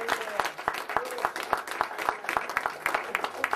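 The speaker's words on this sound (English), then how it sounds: "You give him a round of applause" Audience applause for Brother Jelani Cook at a lecture, heard as a loose crowd of claps with a steady rhythm and moderate loudness, carrying on through the whole stretch without any voice.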